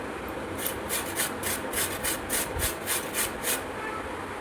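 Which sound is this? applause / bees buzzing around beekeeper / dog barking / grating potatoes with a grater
grating potatoes with a grater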